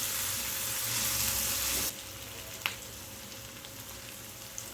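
Chopped tomato with half a spoon of turmeric sizzling in a pan for a fenugreek and gram flour curry, a steady loud fry that drops quieter midway, with a single sharp utensil scrape.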